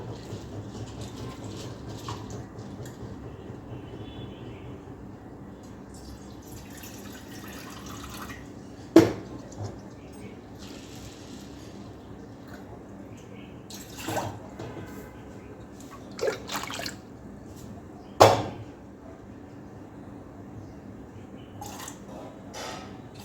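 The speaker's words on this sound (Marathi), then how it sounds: "त्याला स्वच्छ दोन पाणी धुवून घ्यायचं" Tapioca pearls are washed in water in a bowl, making soft sloshing and trickling with a few sharper splashes and clinks scattered across a quiet background, with no talking.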